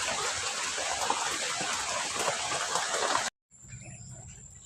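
Steady heavy rain pours down on a rainy day during outdoor cooking, a dense continuous hiss that cuts off abruptly near the end, leaving a quieter background.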